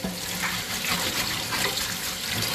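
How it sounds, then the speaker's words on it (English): Sea moss is rinsed under a running tap, making a loud, continuous gush of water splashing in a sink with a slight rhythmic swell. "Rinse it again."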